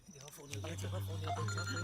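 A telephone rings as someone calls Simmba, the ring mixed with a steady low tone and voices talking over it throughout.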